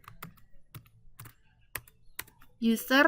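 Keyboard typing of an email and password into a login form, a sparse run of crisp, close key clicks at an uneven pace, with a voice speaking over the final moments.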